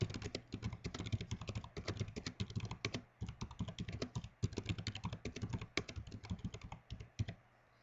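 A title is typed on a computer keyboard in steady, rapid clicking keystrokes, close and clear, running almost without pause with a brief break midway.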